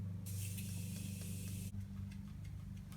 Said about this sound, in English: I'm gonna go in with the Morphe Continuous Mist Setting Spray